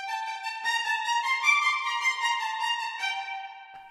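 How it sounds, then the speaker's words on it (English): Violins 1 section from the VSL Synchron Strings library playing a run of short, detached staccato notes, bright and sustained-sounding in a reverberant hall, clear and moderately loud with no other instruments. "When I'm listening to just the violin 1, the staccatos, it sounds like this."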